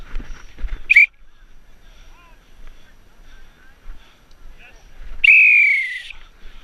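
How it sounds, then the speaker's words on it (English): A referee's whistle in an outdoor tag rugby match gives a short sharp blast, then a longer sustained one a few seconds later, over wind noise and faint voices. "Wait for the whistle"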